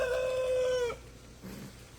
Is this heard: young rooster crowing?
yes